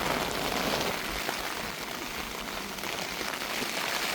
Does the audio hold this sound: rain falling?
yes